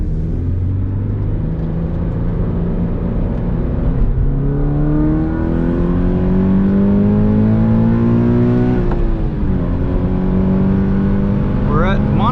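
A 2020 Toyota 86 on old Michelin Primacy tires laps Monticello Raceway in New York, its engine droning steadily with rising pitch sweeps through the gears under constant road and wind noise.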